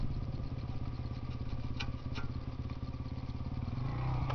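Motorcycle engine running hard as the bike is pushed across rocks on a mountain trail by a lake, a loud continuous drone with clattering that swells toward the end, no talking.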